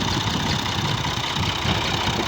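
A tractor engine idles with a steady, low, rumbling drone while the tractor sits stuck in mud in a Punjab village field; the sound is continuous and even, with no voices.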